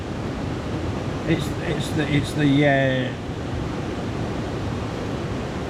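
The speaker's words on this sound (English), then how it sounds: "I couldn't hear it because of the sound of the waterfall" A loud waterfall at a wet winter camp gives a constant broadband rushing roar, with a voice briefly speaking over it midway.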